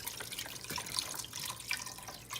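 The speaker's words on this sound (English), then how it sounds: "Now I'm gonna pour in the whole box of chicken broth." Chicken broth pours from a box into a soup pan, a continuous splashing, trickling liquid stream with small drips, moderately close and without talk.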